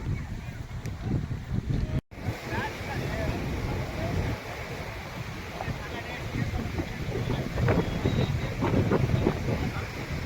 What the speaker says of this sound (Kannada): ನೋಡಿ ರುದ್ರ ರಮಣೀಯ ದೃಶ್ಯ ಎಷ್ಟು ವೇಗವಾಗಿ ಹರಿತಾ ಇದೆ ನೀರು